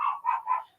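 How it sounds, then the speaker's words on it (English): Dogs barking in a quick series of three loud, close barks, heard alone with no talk, outdoors at a neighbor's home. "As soon as these dogs stop barking."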